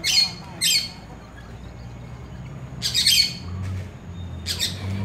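Hens on a rural homestead let out several sharp, loud squawks in short bursts, close by, over a low background hum.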